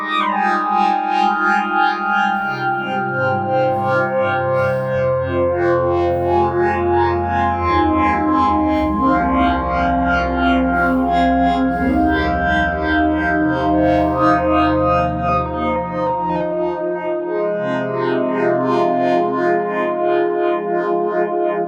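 Dense, sustained synthesizer pad layered from a Prophet Rev-2 and Yamaha Reface CS, loud and continuous with slowly sweeping, shimmering harmonics and effects-laden chorus and echo throughout, no voices.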